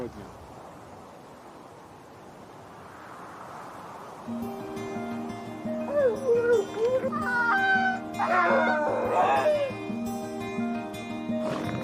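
Alaskan racing huskies from a sled-dog team of forty-four howl and bark together in a rising, wavering chorus, quiet at first and then loud and close after a few seconds.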